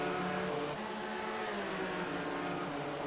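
A race car circles Sebring in the iRacing sim, with a dense, high-revving engine whine held steady over a few seconds of a league race broadcast, fairly quiet and with no talk.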